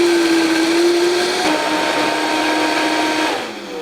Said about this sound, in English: We're going to turn on the blender.